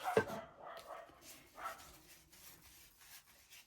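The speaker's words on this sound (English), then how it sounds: "That's the neighbour's dog telling somebody off." A dog barks faintly in the distance, a few short muffled yaps amid quiet room sound.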